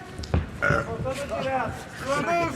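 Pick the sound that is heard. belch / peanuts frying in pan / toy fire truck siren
belch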